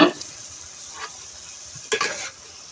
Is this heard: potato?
yes